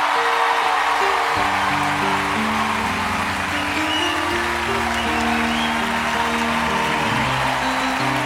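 A television studio audience on L'École des Fans gives its guest a long, loud burst of steady applause, with sustained musical tones playing underneath throughout.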